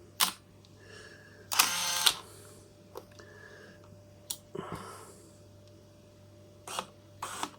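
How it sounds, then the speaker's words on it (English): A 1985 Canon T80 autofocus film camera makes quiet, close mechanical sounds: short whirs of the focus motor hunting for focus, mixed with sharp clicks and a louder burst of shutter and winding noise. "there you can see it focusing. trying to find focus because the stuff's very close, but that's how quiet the focus motor is"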